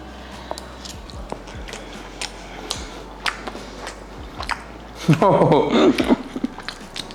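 Soft chewing and biting as a person tastes chicken cooked with Chinese wine, quiet mouth sounds building to a louder burst near the end, with some faint speech-like vocal sound.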